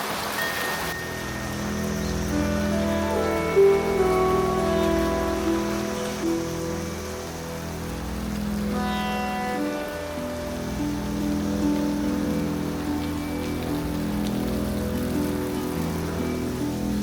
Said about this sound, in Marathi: आज पाऊस काय थांबायचं नाव घेत नाही आहे